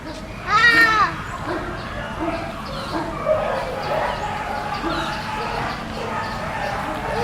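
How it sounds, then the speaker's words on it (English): Dogs bark in a burst early on at an animal resort, loud and near, then quieter yips continue under people talking and children's voices. "So many dogs."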